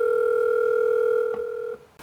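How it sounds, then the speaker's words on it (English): A steady two-tone ringback signal hums through a portable car head unit as an outgoing phone call connects, holding for about a second and a half before cutting off with a click. "There you go, phone call."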